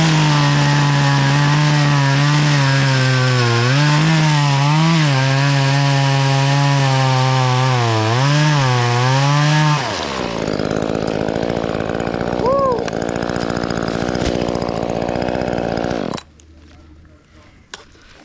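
A Dewalt 60V top-handle battery chainsaw cuts into a tall pine tree up close, its loud whining motor rising and dipping under load for about ten seconds, then a quieter, rougher stretch of cutting before it stops abruptly.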